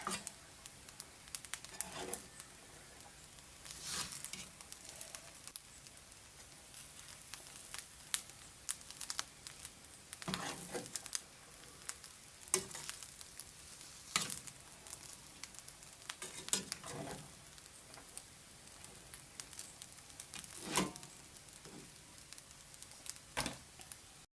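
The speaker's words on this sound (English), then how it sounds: "Now I'm gonna add in my egg. Giving it a stir." Egg sizzling in a pan of frankfurter fried rice while being stirred, with quiet continuous frying crackle broken by repeated scraping and stirring strokes, fairly soft and close.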